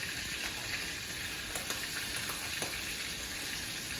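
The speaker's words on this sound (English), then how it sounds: "Turn the pan down a little bit, let that get a good sear." A steak searing in butter in a pan on lowered heat gives a soft, steady hiss and crackle, quiet and even throughout with a few faint pops.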